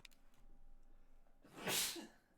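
One close, sharp sneeze bursts out after a quiet stretch of faint breathing and room noise, loud and abrupt near the end.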